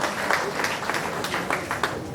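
Audience applause at a Hindi poetry gathering, a dense steady clapping from a crowd heard close and fairly loud throughout.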